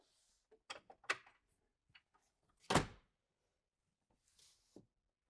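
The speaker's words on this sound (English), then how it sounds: "Now our screen door is ready to close." The screen door of a 2027 Newmar Ventana RV swings shut with a small snap, heard as several light clicks and a louder thunk in the middle, close and sharp in an otherwise quiet setting.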